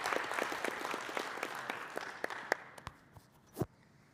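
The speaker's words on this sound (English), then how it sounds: "A round of applause for him again." A crowd applauding, dense clapping that gradually thins out, with a few louder isolated claps near the end.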